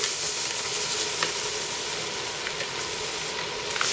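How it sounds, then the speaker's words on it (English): A kitchen oven heating up, a steady broad hiss with a faint hum running throughout, fairly loud and even, with occasional light clicks. "It's my oven heating."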